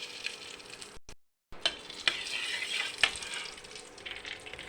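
Cashew nuts frying in ghee in a kadai give off a steady, close sizzle, with occasional sharp crackles and stirring scrapes, after a brief silent break near the start.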